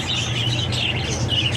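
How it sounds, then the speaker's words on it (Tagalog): Small caged breeder birds, likely lovebirds or similar pet birds, chirp and tweet in a steady busy chorus over a constant low hum, with no talking. "Pag-usapan na lang natin yung yung mga ibon kasi meron ako rito"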